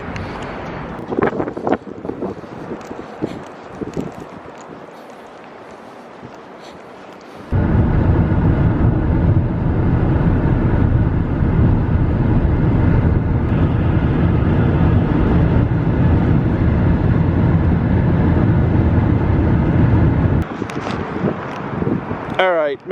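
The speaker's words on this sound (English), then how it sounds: "it's really windy and it's raining" Heavy wind buffeting the microphone in a loud, steady roar for several seconds in rain, preceded by quieter outdoor noise and ending in a calmer stretch.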